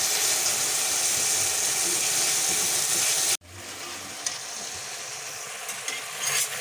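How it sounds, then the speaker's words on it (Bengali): Spice paste (masala) sizzles and fries in hot oil while being stirred, a steady dense hiss that cuts out abruptly midway and resumes quieter with occasional scraping clicks; no talking. "আমার মশলা কষানো হয়ে গেছে।"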